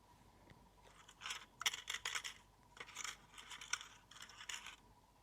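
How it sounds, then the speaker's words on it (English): Metallic jingling of coins in several bursts, a recorded sound effect from a talking dictionary, bright and close, with short gaps between shakes and no talking. "That's the sound of coins."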